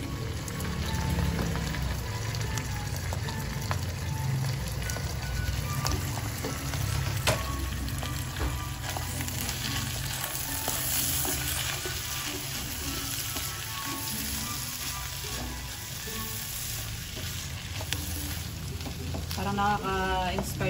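White onion frying in a new pan for bangus sisig, a steady loud sizzle with occasional stirring scrapes running throughout, no talking.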